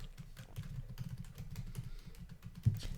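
Password typed on a computer keyboard, a quick run of soft, close key clicks ending with one firmer press.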